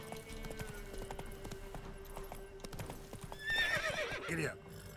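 Roach, a horse in a video game, trots with steady clip-clop hoofbeats throughout, then lets out a loud, close whinny near the end.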